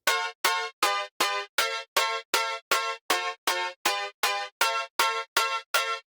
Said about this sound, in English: There's also this cool keys offbeat synth that kind of sounds like this.